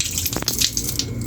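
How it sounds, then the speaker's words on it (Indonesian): Hands rinsed under a running tap before a vital-signs examination, a steady close splashing rush of water with small shifting splatters as the hands move through the stream. "saya akan membilas menggunakan air mengalir"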